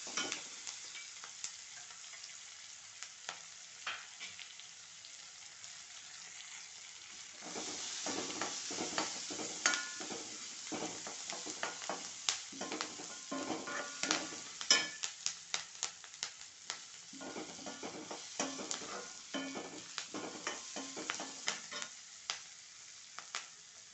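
Onion frying with ginger and garlic in a pan for chicken curry: a soft steady sizzle that intensifies midway, with bursts of stirring scrapes and metallic taps, close and without speech.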